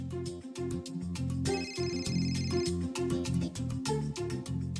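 A melodic phone ringtone plays loudly and continuously, a repeating tune with bright tones over a steady low backing.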